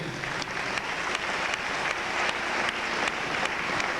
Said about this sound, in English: I think we should stand and give these athletes another round of applause